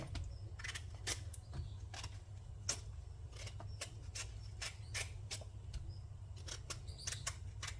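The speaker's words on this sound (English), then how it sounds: "I go peel the last piece of breadfruit right about now" A knife peels breadfruit with a run of quick, sharp scraping strokes, close and fairly quiet over a low background hum.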